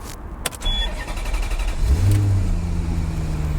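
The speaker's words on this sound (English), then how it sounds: "Let's actually get in this thing and fire it up." A Maserati Quattroporte engine starts with a starter whir and catch, then settles into a loud, steady idle with a low rumble and a brief rev.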